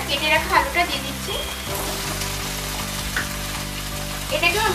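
Cut potatoes frying with spices in a pan over a medium flame for a prawn masala curry, giving a steady, moderately loud sizzle under a sustained tonal hum, with busier crackling at the start and end.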